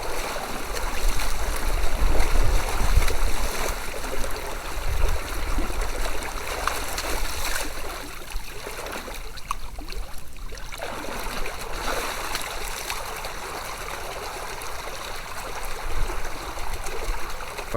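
An electric water pump runs as water rushes and splashes steadily with a constant motor hum underneath, the flow surging louder early on and then settling into an even stream.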